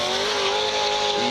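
Supercharged Nissan S14 drift car sliding sideways on a track at a St. Louis drift qualifying event, engine wailing at high revs over a continuous tire squeal, loud and sustained through the short burst.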